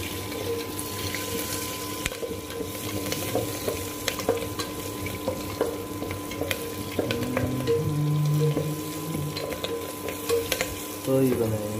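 Green chillies frying in a pan of oil while making bachelor-style Telugu sambar, a steady close sizzle with stirring clinks and some watery bubbling running throughout, no talking.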